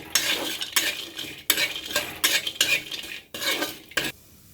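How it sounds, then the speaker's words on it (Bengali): Food fries in a little coconut oil in a hot pan while a utensil scrapes and stirs it in rhythmic bursts, about six strokes under a light sizzle, close and clear, with no voices. "এবার আমি অল্প একটু কোকোনাট অয়েল দিয়ে এটা ভেজে নেব"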